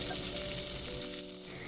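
Ginger-garlic paste and tempering greens hit hot oil in a kadai, giving a brief, steady, close sizzle with no voices.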